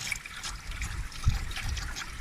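Coolant flows and trickles out of the cooling system of an Arctic Cat 700 diesel turbo quad, a steady close liquid stream with small splashes and no bubbling.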